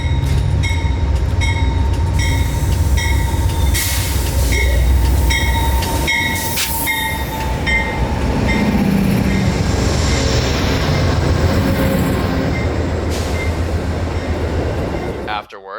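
A passenger train rolls slowly past close by at about 15 mph in Central Florida, with heavy rumbling, rhythmic clanking of wheels over rail joints, and occasional metallic squeals, loud and sustained.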